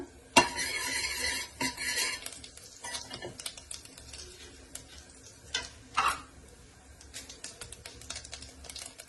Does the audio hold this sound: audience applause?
no